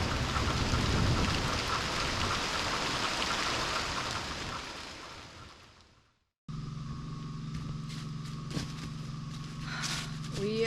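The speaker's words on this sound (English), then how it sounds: "It's drizzling, it's a little bit wet." Steady drizzle patters outside a woodland cabin after an overnight storm, a dense even hiss that cuts out briefly, then returns with a low hum and faint background sounds.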